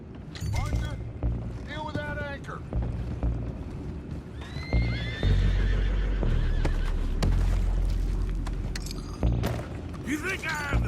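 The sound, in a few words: horses neighing in video game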